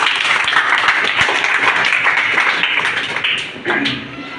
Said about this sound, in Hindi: आइए एक जोरदार तालियों के साथ।